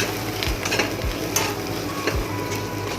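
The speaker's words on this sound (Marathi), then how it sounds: "मीडियम फ्लेमवर राहून द्यायचं, मग कसं चांगला परततो कांदा." Onion sautés in a kadhai over a medium flame, a steady close sizzle broken by a few soft knocks and scrapes from stirring, with no voices.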